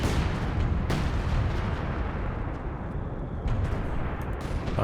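Base artillery rumbles continuously in a Company of Heroes 2 battle, a heavy low roar of shelling with a few sharper impacts standing out, no talk over it.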